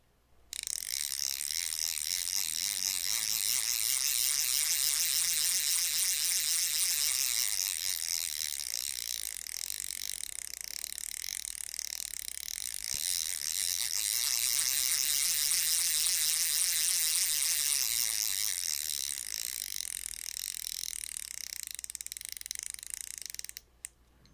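Drag clicker of a Shimano 2017 Scorpion BFS aluminum bait finesse fishing reel, a rapid continuous buzzing ratchet of fine clicks held steady for over twenty seconds, close and fairly quiet, no voices.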